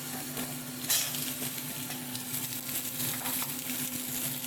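Potato, sweet potato and vegetable stalks frying together in oil for shukto, a steady dense sizzle with light stirring scrapes throughout.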